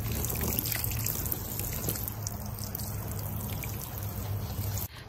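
Water is poured over freshly planted grocery-store shallots in soil. It makes a steady, continuous splashing trickle lasting several seconds, close and fairly loud, then cuts off abruptly at the end.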